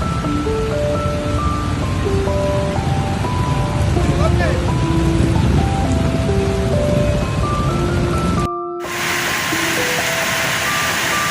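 Heavy rain pours onto a flooded street in front of the South Sulawesi Governor's office in Makassar, a steady loud wash with vehicle noise and scattered beeping tones, briefly cut off near the end before resuming.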